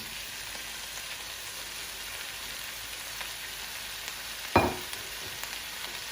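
Red capsicum stir-frying in a Cantonese-style pan, a soft steady sizzle with one brief clatter of the pan or utensil partway through, close but quiet with no talking.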